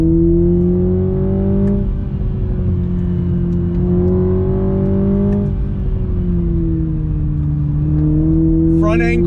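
A 2021 Toyota Supra 2.0 at full throttle, heard loud and close from the cabin as the engine note climbs repeatedly, with gear changes briefly lowering the pitch between pulls.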